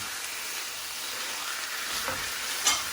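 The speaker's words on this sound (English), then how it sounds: "I'm gonna add our ground beef, and these onions will finish cooking down while the meat is cooking." Ground beef and onions frying in a pan give a steady, close, bright sizzle with a brief louder crackle near the end, and no voices over it.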